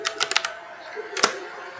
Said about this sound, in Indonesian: Ini harus ngetik dari Word ini